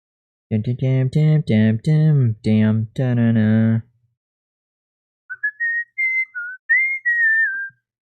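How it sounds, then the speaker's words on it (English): A voice makes a few drawn-out vocal sounds, then after a pause someone whistles several short, high, wavering notes to a cat. "He responds to whistling."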